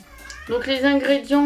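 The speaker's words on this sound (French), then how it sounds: "j'ai mon chat qui miaule" A house cat meows loudly indoors, a drawn-out tonal cry in the second half, right after someone briefly speaks.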